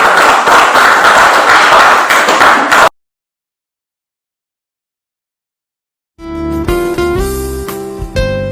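Applause for a speaker at a teachers' training session, a loud burst of clapping that cuts off abruptly into silence before music begins.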